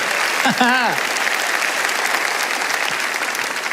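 A church congregation applauds in a steady, full wash of clapping, with a short spoken exclamation heard over it near the start.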